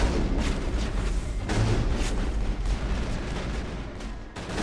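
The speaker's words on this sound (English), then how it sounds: "Open fire. Open fire!" Dense, continuous gunfire and booming explosions from a firefight against ExoGeni mercenaries in Mass Effect, loud and sustained throughout with heavy low rumble and no clear pauses.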